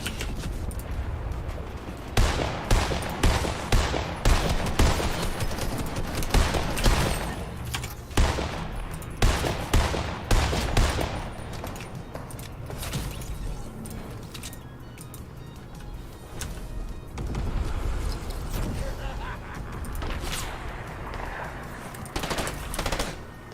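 Rapid bursts of hand cannon and other gunfire in a competitive shooter game, sharp repeated cracks in clusters with brief lulls, loud and close throughout.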